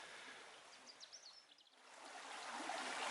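Water of a small, enclosed brook flowing steadily as a soft broadband rush near the listener, with faint bird chirps early on, growing slightly fuller toward the end.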